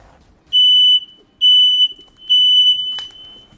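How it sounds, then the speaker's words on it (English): A smoke alarm gives three loud, high-pitched beeps at an even pace, each lasting about half a second, with quiet background in between. "Did you hear that beeping?"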